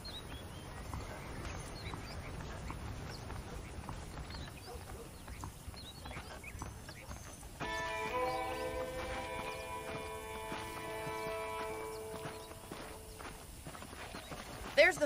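Horse hooves clip-clop steadily in the Red Dead Redemption video game, a soft walking rhythm under ambient outdoor sound, with a musical cue entering partway through.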